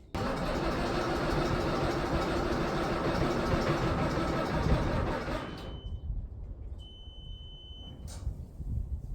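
A diesel engine on a hedgebashing machine cold-starts and runs loud and rough for several seconds, then drops away to a quieter rumble.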